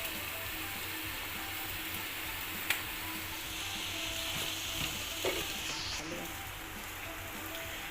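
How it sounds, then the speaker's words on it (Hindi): Spaghetti is mixed into a frying chicken corn pasta in a pan: a soft continuous sizzle with occasional quiet scrapes and taps of the utensil, close but low in level, no speech. "और अब मैं फ़ौरन इसके अंदर मिक्स कर दूँगी स्पैगेटी"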